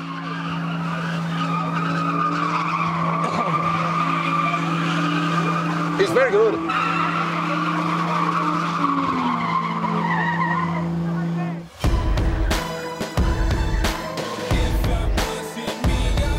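A car spins in tight circles on a 20-metre freestyle driving track in Johannesburg, tires squealing in a long continuous howl over engine drone, then breaking into choppy bursts of skidding; a voice speaks briefly over it.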